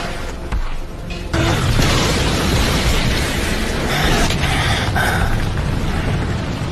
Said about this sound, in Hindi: Fire style dragon flame jutsu.